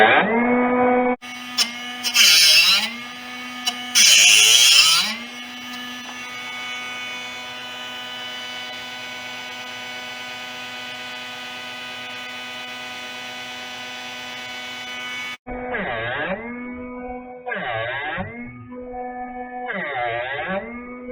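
A steady mechanical hum from a Drill Doctor drill bit sharpener drones for several seconds, with short whirring grinding bursts switching on and off at the start and end.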